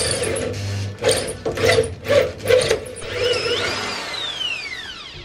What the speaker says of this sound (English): Tim's just quickly run the drill through them as best he can